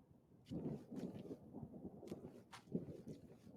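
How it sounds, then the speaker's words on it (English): Thunder rumbles in the video game Generation Zero, low rolling swells that rise and fade across the stretch, quiet and distant under faint ambient noise. "The thunder's a nice change."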